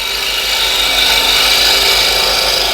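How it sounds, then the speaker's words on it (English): Woodturning tool scraping a piece of wood spinning on a lathe, producing fine powder; a steady, close, continuous rasping hiss with no talk. "I'm getting a lot of this fine powder here, and that's telling me that it's scraping really nice"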